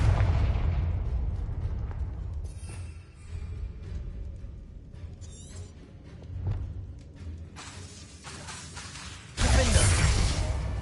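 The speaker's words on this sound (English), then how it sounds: "Bombarda. Confringo. Bombarda." Spells explode in Hogwarts Legacy gameplay on PS5 as a run of heavy booms and crackling bursts with rumbling tails and scattered smaller pops, ending in a loud, sustained blast. No voices are heard.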